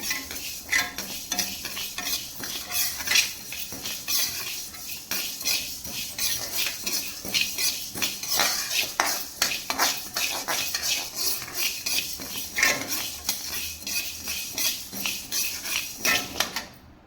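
Horse gram being dry-roasted in a pan, with a busy, continuous rattle and scrape of the dry grains stirred against the metal and a faint sizzle underneath, close and steady with no talking.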